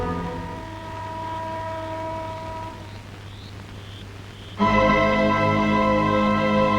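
A train passes as a steady rumbling drone with tonal hum that drops briefly, then surges louder and closer, with no talk over it.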